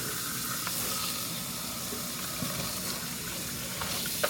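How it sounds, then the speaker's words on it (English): Tap water pours steadily into a kitchen sink over raw chicken being rinsed before seasoning, a continuous close splashing hiss with faint clinks now and then and no talking. "And then just run some more water."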